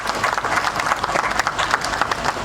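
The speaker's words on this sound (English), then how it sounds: "How about a round of applause?" An audience at a facility commissioning event attended by the President of Ghana gives a round of applause, many hands clapping steadily and loudly throughout.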